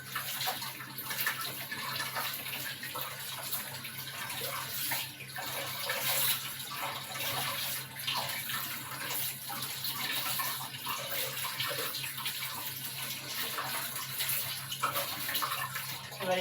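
Cold tap water pours steadily over boiled chowmein noodles as they are rinsed, a continuous splashing rush that holds at an even level throughout.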